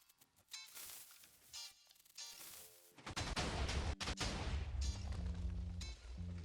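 Minecraft sand cannon firing a raid shot in a factions server, a series of sharp game explosion pops and booms, sparse at first then merging into a dense, rumbling barrage.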